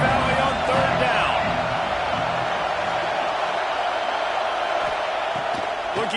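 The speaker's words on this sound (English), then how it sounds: "Here comes the noise from this big crowd in Happy Valley on 3rd down." Crowd noise from a big stadium crowd in Happy Valley on third down in College Football 26, a loud, steady roar of cheering that holds for the whole stretch with some whoops rising from the mass.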